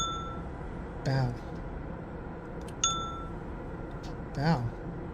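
A bell chimes in Myst's Selenitic age, a ringing tone struck a few times at irregular intervals over a low ambient hum, with a voice talking faintly.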